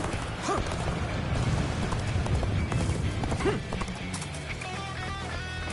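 Horse hooves clop steadily at a gallop amid busy sounds from Dynasty Warriors Origins, with a horse whinnying briefly near the start.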